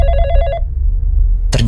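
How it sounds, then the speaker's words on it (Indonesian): A telephone bell rings loud and close in a short electronic burst, then drops to near silence before another bright tone breaks in at the end. "telepon berdering."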